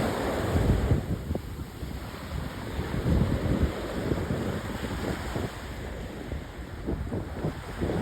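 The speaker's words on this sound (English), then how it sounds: "This is a really nice swimming beach here." Waves washing onto a shallow swimming beach at Playa del Carmen, Mexico, with a continuous roar of surf and wind buffeting the microphone, loud and steady throughout, no voices.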